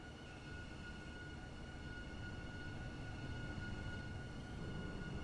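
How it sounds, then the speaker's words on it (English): A Class 331 train pulls into a platform in the game Stepford County Railway, a faint continuous rumbling roll with a steady high whine, without talk. "The train now approaching platform 6 terminates here."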